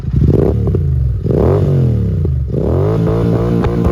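Royal Enfield GT Continental 650 fitted with an aftermarket Big Shot exhaust, revved hard in three loud throaty bursts, each rising and then falling back, close by with no talk.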